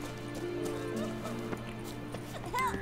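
Horse hooves clip-clop in The Witcher 3, a steady gallop with a brief whinny near the end, layered over game music and ambient sound.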